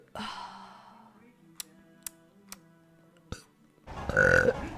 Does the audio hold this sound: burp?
yes